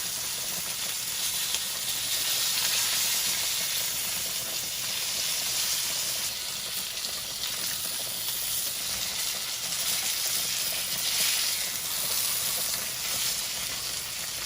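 Country fried steak fries in a pan with a steady, even sizzle and hiss that carries on unbroken, fairly close, with no one talking.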